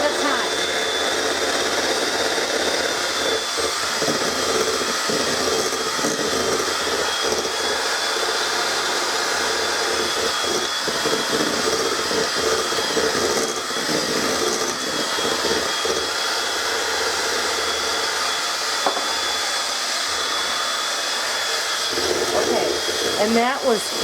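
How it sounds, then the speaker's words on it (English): Electric hand mixer beating eggs one at a time into vanilla cake batter, a steady continuous whir running throughout at close range with slight changes in pitch and load. "we're going to add 1 egg at a time in here. We're going to mix it until it's incorporated"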